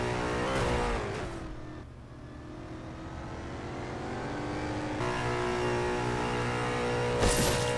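A Lego Worlds car engine hums and revs steadily, rising and falling in pitch, with a sharp burst of noise near the end.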